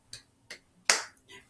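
Children clapping hands, a few separate sharp claps spaced unevenly, close and clear against a quiet background, with one louder clap in the middle.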